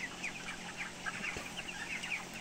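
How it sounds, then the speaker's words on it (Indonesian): A flock of 27-day-old broiler chickens, part of a 7,000-bird flock, clucks and chirps continuously, many birds overlapping in a steady, busy chorus with no talking. "Ini ayam berumur 27 hari."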